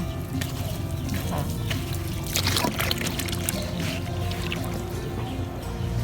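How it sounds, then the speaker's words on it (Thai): Water runs steadily into a lotus-growing tank and spills over the rim, a continuous close pouring and splashing that stays fairly constant throughout. "เปิดน้ำล้นให้ลอยไอ้ตัวที่เป็นคราบๆนี้ออกไปเป็นการเปลี่ยนน้ำนะคะ"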